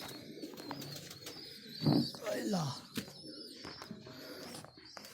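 Pigeons at a loft setup give soft, close coos and fluttery bird calls while someone speaks briefly over them.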